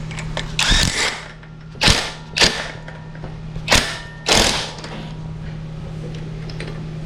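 A power drill removes a screw from the crank cover of a motorized bicycle, running in five short, loud whirring bursts separated by pauses over a steady low hum.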